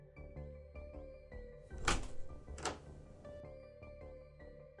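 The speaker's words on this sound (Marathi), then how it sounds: "तसा दरवाजा उघडला गेला" A house door swinging open as a story sound effect, heard as two short, fairly loud scraping bursts close together over a steady bed of soft background music, with no voices.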